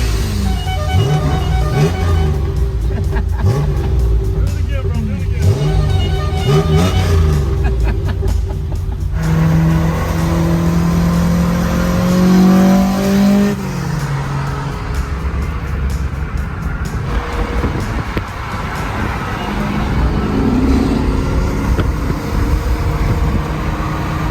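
Classic Japanese car, a Nissan Skyline Hakosuka or Toyota Corolla AE86, revving hard through aftermarket exhaust pipes on a US road, loud and close with rising and falling engine pitch as it passes; voices briefly talk nearby.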